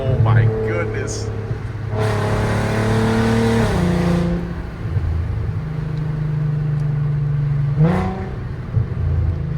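A VW MK5 R32 with a freshly fitted ECS Tuning valved exhaust that is still breaking in, revving loudly and accelerating under a steady engine drone, with occasional voices mixed in.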